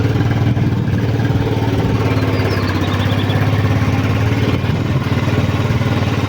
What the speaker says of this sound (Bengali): এইখান দিয়ে বাইক চালানো হচ্ছে